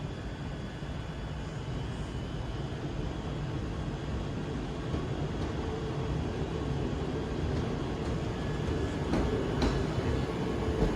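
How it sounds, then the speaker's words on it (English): A Scotrail Class 320 electric train pulls into Glasgow Central as an empty stock working, a steady broad rumble and hum filling the station for the whole stretch with faint squeals near the end. "arriving now is a Scotrail 320 on an ECS"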